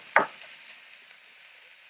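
A wooden spatula pushes sliced onions through oil in a non-stick pan, making one sharp scrape and sizzle near the start. A low, faint frying hiss follows and trails off.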